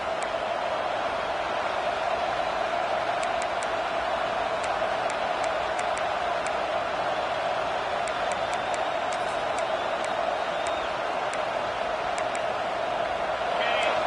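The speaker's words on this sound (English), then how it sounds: "Listen to the crowd energy here in the early going." A dense, steady roar from a large stadium crowd at a football game, with broadband cheering noise sustained throughout and no clear pauses.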